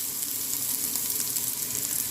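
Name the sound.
frying garlic, ginger and onion in a pan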